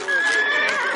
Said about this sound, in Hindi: घोड़ा आदरणीय राजगुरु जी की चोटी चबा रहा है महाराज